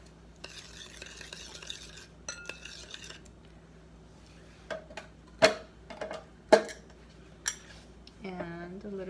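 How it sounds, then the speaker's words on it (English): Crushed garlic is stirred into food with a utensil, giving a few scraping swishes followed by several sharp clinks and taps against the pot or dish, close and fairly quiet with pauses between them. "Mix it in. A tablespoon of garlic,"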